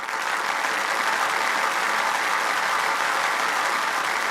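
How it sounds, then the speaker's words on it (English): Steady, dense applause from a crowd at a talk show event in AltSpaceVR, continuous and even throughout with no pauses or voices standing out. "we only have one person that's clapping about that"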